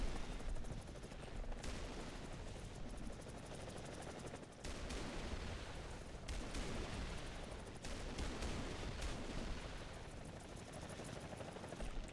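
Rapid crackling bursts of rocket or missile fire and explosions from a combat video game with aircraft, dense continuous gunfire-like rattling that drops out briefly between volleys, fairly faint overall.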